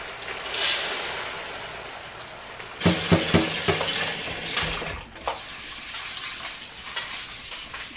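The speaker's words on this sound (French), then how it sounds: "On rince le riz." Basmati rice rinsed under running water at a kitchen sink, with a steady rush of flowing water and intermittent grainy swishing and clatter as the rice is stirred.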